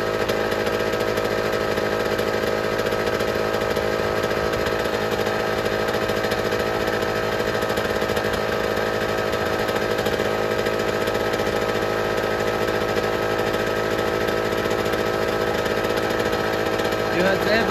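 A small engine idles steadily after its carburetor mixture has been adjusted, giving a continuous, even buzzing drone that stays close and loud with no change in speed for the whole stretch.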